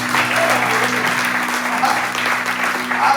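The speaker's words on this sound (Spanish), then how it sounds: "Denle un aplauso al jefe que esta mañana" A church congregation at an evangelistic campaign service claps continuously and briskly, with sustained keyboard or organ tones holding underneath the applause.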